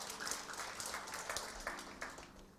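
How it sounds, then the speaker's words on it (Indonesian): Church congregation at an Indonesian sermon gives a short round of applause, scattered claps at moderate distance fading in and out at low volume. "Beri tepuk tangan."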